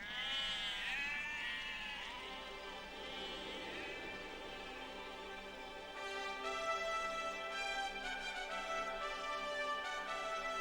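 Sheep bleat in a rural English hill setting, with several overlapping wavering calls, some near and loud and others fainter, carrying on steadily with no other sound over them.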